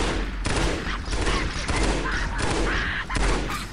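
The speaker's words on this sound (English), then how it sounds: "That's the power of battle rifle" Rapid battle rifle gunfire in Halo SPV3 rattles loud and close in repeated bursts, layered with other weapon fire and combat noise, while a voice talks over it.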